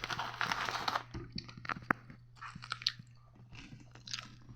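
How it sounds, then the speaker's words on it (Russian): Close, quiet chewing of potato chips with irregular crisp crunches and bites spread across the clip over a low steady hum, no talking. "Да, я там жую чипсы."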